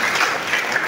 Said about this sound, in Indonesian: kita tepuk tangan untuk Bapak Bupati kita.